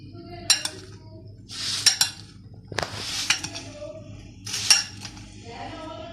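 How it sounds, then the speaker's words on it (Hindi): Kachumber salad tossed with black pepper powder in a bowl, with a few separate clinks and scrapes of a spoon against the dish, close and fairly quiet, spaced out over several seconds with no talking. "अब हम इसको मिक्स कर लेंगे अच्छे से"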